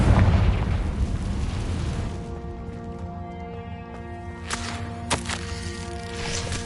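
Confringo fire spell blast in Hogwarts Legacy, a heavy booming explosion up front that decays into a rumbling tail with tonal game music, followed by a couple of sharper secondary bursts later on.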